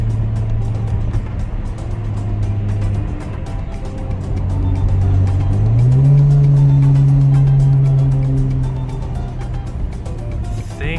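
A Dodge Challenger cruises through hilly countryside, its engine a steady low drone with one audible shift and a rise in revs midway before easing back, a continuous rumble close to the car.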